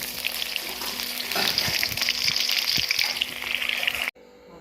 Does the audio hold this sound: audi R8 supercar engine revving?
no